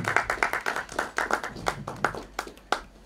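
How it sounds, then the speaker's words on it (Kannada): An audience at a Kannada film event claps to welcome an actor onstage. The applause comes as close, fairly loud, uneven bursts of hands, with faint speech underneath. "ಒಂದು ಜೋರಾದ ಚಪ್ಪಾಳೆಯಿಂದ ಅವರನ್ನ ಸ್ವಾಗತಿಸಿ"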